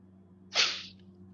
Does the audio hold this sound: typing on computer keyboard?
no